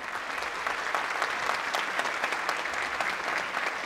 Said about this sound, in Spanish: les voy a volver a pedir un fuerte aplauso